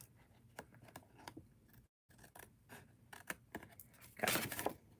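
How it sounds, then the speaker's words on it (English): Snipping with thick Hello Kitty scissors, a run of short crisp cuts in quick succession, close and fairly quiet, with a brief pause and a louder rustling burst near the end. "Because those are the scissors that I use for this. Because they're thicker."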